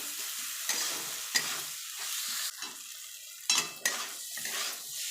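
Lentils for a drumstick-leaf dal frying in a pan, a steady sizzle broken by several sharp scrapes and clinks of a spoon stirring against the metal, close and fairly quiet with no voices.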